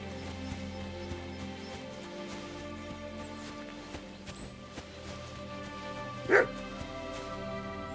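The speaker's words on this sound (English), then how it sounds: "Barking." A dog barking in the medieval video game Kingdom Come: Deliverance II, with a few faint yips and barks scattered over a steady ambient music bed and one louder bark toward the end.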